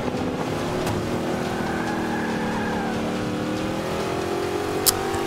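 A vintage American race car engine at Circuit de Spa in Forza Motorsport 5 holds a steady, loud droning roar with shifting pitch as it runs at speed, continuous throughout with no voices.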